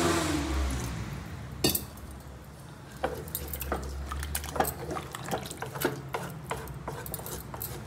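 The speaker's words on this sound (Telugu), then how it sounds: "ఇప్పుడు వాటర్ పోసేసుకుంటాను నేను." Water pours steadily into a pressure cooker holding mutton curry with coriander and mint. The splashing stream runs continuously, broken by a few sharp clinks of metal.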